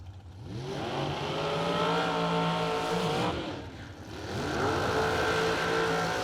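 A drag racing car rolls through the water box at a drag strip. Its engine rises in two loud revving surges with a brief dip between them, heard from a middle distance with no speech.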